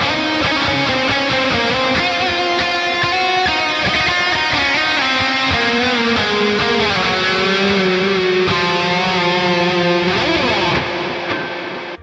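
Electric guitar run through a simple delay and reverb from the Bogren Digital S_Zero 93 plugin, playing loud, distorted sustained notes and bends that ring out with echo trails for about twelve seconds, no voices.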